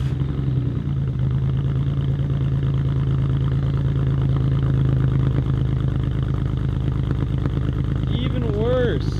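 A cold BMW E46 engine turning over and running rough, a loud continuous uneven idle with clattering pulses throughout, close up, with a brief whistling squeal near the end.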